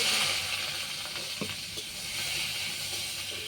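Chopped onion drops into hot mustard oil with crushed garlic for a leafy greens curry, setting off a steady, close broadband hiss of frying that holds level throughout, with a single soft knock near the middle.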